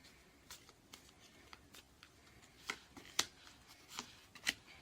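Tarot cards are shuffled and drawn in quiet, soft riffles and flicks, scattered crisp snaps that get a little louder toward the end, close by with no speech.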